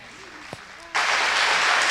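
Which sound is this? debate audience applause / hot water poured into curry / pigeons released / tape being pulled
debate audience applause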